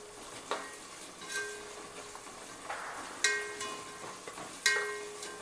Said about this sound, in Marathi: आता हे छान आपण हलवून घेऊया